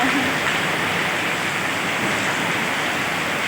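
Heavy rain pours steadily during an e-bike ride through flooding streets, a loud, dense hiss that stays constant throughout.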